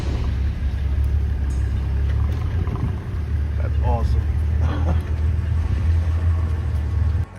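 A safari vehicle reverses hard away from a charging lion, its engine a steady loud rumble that holds for the whole stretch, with a brief voice speaking over it.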